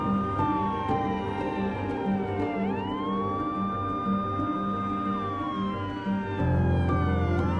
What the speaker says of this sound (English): An ambulance is coming as fast as it possibly can.